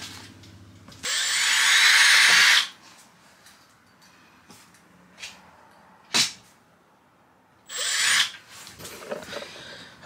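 A power drill tries to drive screws into a metal bed frame for a short bus conversion. The motor whines in two loud bursts, one early and one near the end, with a few sharp knocks and clatters in between.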